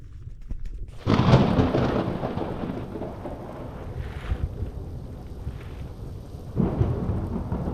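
A thunderstorm rumbles over the Irish mountains, a long rolling peal of thunder swelling after a quiet start and fading, then another surge near the end, all over steady rain and wind buffeting the microphone.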